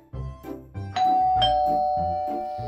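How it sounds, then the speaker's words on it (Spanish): A doorbell rings with a bright ding-dong chime, repeated tones ringing out clearly alone against a quiet background in a children's Halloween cartoon. "¡Oh! ¡Un timbre!"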